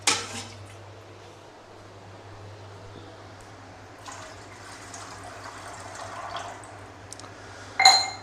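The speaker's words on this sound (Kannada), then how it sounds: "ಮೂಜಿ ಲೋಟೆ ನೀರು ಪಾಡೋಡು" Water is poured into a cooking pot for egg biryani, a steady, fairly quiet stream of splashing that runs for several seconds and ends with a brief, sharper clink.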